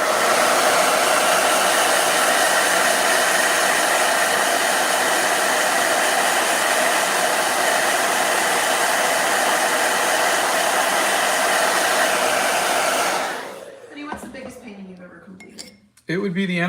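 A blow dryer running loud and steady with a broad rushing whoosh for about thirteen seconds, then switched off, leaving faint clinks and handling noises.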